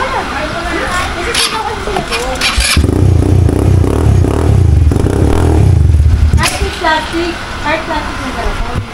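Motorcycle-like engine with a piped exhaust and chain drive on a farm near Mount Arayat, idling then revving up loudly for several seconds before dropping back, with people talking over it.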